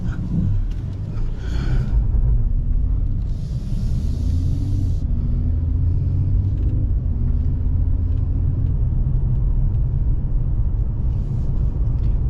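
A 2022 Mercedes E53 AMG coupe rumbles steadily from inside the cabin as it backs up and turns around. The engine gives a low, continuous drone with gentle pitch swells from light throttle and a few soft clicks.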